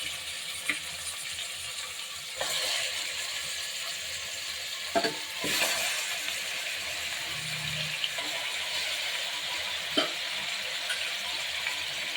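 Mutton frying in oil in a pan for a festival meal, a steady close sizzle with occasional stirring clatters and scrapes of a spoon.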